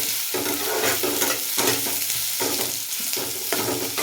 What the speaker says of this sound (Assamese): পিঁয়াজখিনি অকণমান ভাজি ল'ম, ৰঙচঙীয়া হোৱালৈকে।